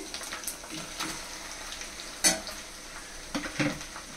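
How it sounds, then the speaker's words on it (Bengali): Spice paste frying in a pan for a chicken dish, with a soft steady sizzle and occasional stirring scrapes, one sharper clatter near the middle, fairly faint and close with no talking. "আর এটাকে একটুখানি ভেজে নিচ্ছি আর কি, যাতে কাঁচা গন্ধটা চলে যায়।"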